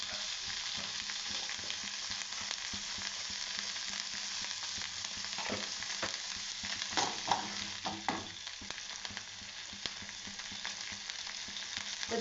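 Food frying in a pan with oil and curry leaves, a steady close sizzle with occasional stirring clatter and bursts of crackling partway through, no talking.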